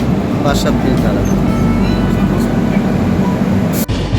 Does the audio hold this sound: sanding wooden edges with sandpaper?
no